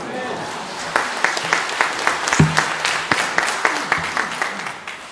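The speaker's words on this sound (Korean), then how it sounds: "설교도 하기 전에 박수를 받아서 너무 기쁩니다" A congregation claps rhythmically in a Korean church's Sunday service before the sermon, with a voice speaking over the steady beat of the applause.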